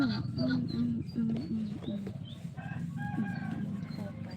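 Chickens at a farm, with a rooster crowing and hens clucking, the calls fairly near and repeating over a low murmur of voices talking close by.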